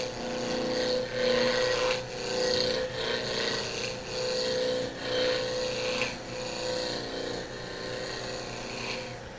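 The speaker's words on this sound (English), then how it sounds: "You can see I'm easing the tool through the cut." A wood turning tool cuts a spindle on a lathe, making a close, steady rasping scrape with regular rhythmic swells as the tool eases through the cut.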